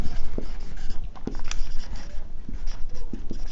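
Marker writing on a board with short squeaks and scratchy strokes in irregular bursts, fairly close, over faint room noise.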